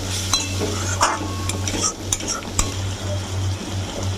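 Egg curry broth simmering in a pan at home, a steady bubbling hiss with a low hum beneath and occasional spoon stirs and clinks of cookware.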